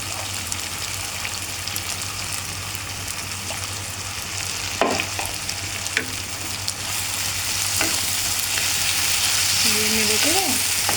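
Potato, carrot and soft pointed gourd seeds frying in a pan while being stirred, giving a steady, close sizzle with a few scraping strokes and a constant low hum underneath.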